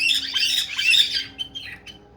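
Harsh, shrill parrot squawks burst out in quick succession for a couple of seconds, loud and close, over a low steady hum.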